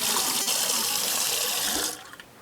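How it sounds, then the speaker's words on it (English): Hot water runs steadily from a tap into a sink during cleaning, a loud continuous rush that tapers off near the end as the flow is shut. "But let's just get this. Nice hot water."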